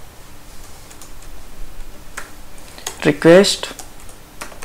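Light, quick clicks from a computer keyboard while someone speaks briefly partway through.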